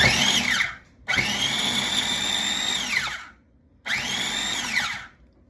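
Food processor pulsing bread into crumbs, three loud whirring motor bursts close up, each spinning up and winding down, with brief silent gaps between pulses.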